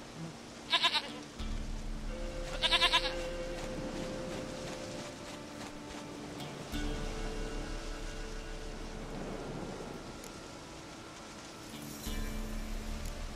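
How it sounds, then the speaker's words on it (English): Two sharp goat bleats sound early in The Witcher 3 video game, each a short wavering cry, followed by a low humming drone and quieter tonal background sounds. "Goat of mine, dearest, sweetest goat."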